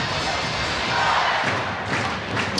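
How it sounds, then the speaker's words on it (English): An ice hockey arena crowd roars and cheers after a fight on the ice, a broad sustained wash of many voices with a swell partway through. "that fight has really perked up the crowd"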